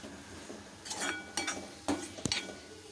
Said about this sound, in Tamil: அந்த சூட்டிலே வந்து இந்த மாதிரி நம்ம கலந்து விட்டுக்கலாம்